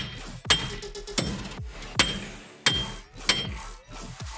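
A hammer strikes the side of a wheel hub during a wheel bearing replacement on an HHR, giving five sharp metallic whacks at uneven intervals, close and ringing, with no talk.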